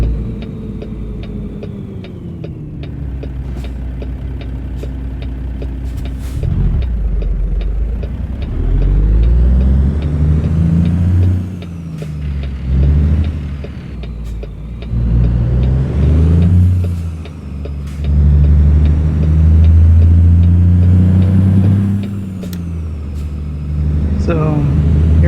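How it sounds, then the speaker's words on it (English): Truck engine, an N14 rated at 550 horsepower, in American Truck Simulator, idling low and then repeatedly revving and pulling through gears with loud rising and falling drone, while a voice talks over it at times. "The engine is the N14 550 horse engine from Slav Jerry"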